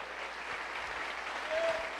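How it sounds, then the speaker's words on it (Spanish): A church congregation claps together during a service, a steady wash of applause at low-to-moderate level with faint background sounds. "Denle un aplauso al Señor."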